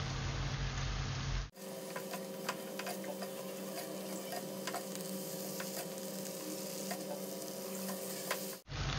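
Vegetables with bean sprouts, sliced large chili and tomato, stir-fried in a pan: steady close sizzling with light clicks of stirring, running alone with no talk.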